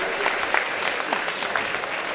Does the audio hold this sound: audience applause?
yes